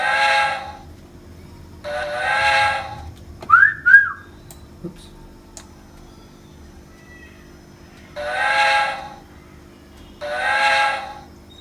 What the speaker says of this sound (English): So steam locomotive in its full glory